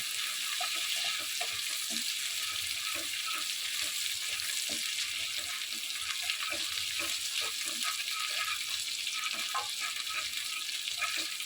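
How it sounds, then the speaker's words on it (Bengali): Bitter gourd leaves and coconut fry in a pan with a steady, loud hiss of sizzling oil, broken by faint scraping and stirring clicks throughout. "উচ্ছে পাতাগুলো একটু ভেজে তার মধ্যে আবার নারকেলটা ভেজে তুলে রাখবো"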